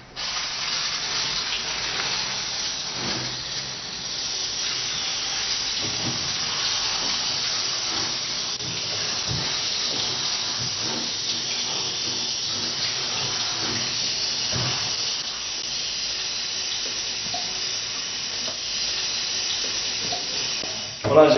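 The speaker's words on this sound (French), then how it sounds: "Le nettoyage du châssis à l'eau." Steady spray of water hissing continuously for a long stretch as a car chassis is rinsed, with faint background noise.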